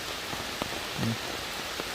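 Steady patter of rain across the whole stretch, fairly soft and even, with a few scattered drips standing out.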